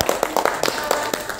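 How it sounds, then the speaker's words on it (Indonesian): A small group applauds the creative team at an anniversary show, with a brief burst of crisp, evenly spaced claps that is close and moderately loud. "Tepuk tangan dulu buat tim kreatif dong."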